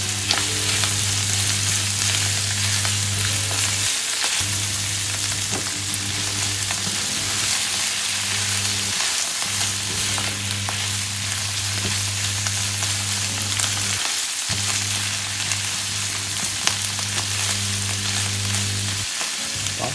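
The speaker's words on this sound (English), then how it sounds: "we're going to stir and fry for a few minutes" Sun-dried tomatoes frying in a pan for pesto pasta, a loud, steady sizzle with stirring scrapes and a low hum that cuts out briefly every few seconds, no voices.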